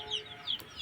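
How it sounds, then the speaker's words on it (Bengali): Small chicks and a hen of a local country breed give short, faint clucks and peeps, a few brief calls over quiet background noise. "দেখেন এই যে ছোট ছোট মুরগির বাচ্চা।"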